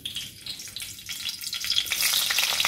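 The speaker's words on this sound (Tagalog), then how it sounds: "Ipiprito din natin siya." Okra frying in hot oil in a pan, crackling and spitting sizzle that swells louder and denser toward the end, close by, with no talk.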